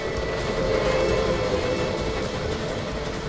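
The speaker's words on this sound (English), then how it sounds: "Spruce was home for the Shays locomotives. Trains transported timber safely down the dangerously steep grades." A Shay steam locomotive hauls timber on steep mountain grades, giving a continuous loud rumble and rattle of rolling rail cars with no break.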